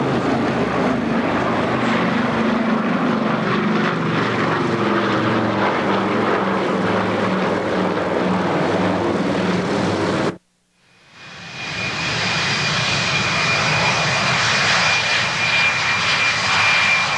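A stripped-down, lightened propeller airplane performing at an airshow roars loudly and steadily overhead, its engine drone cutting out abruptly for a moment before surging back with a sustained whine.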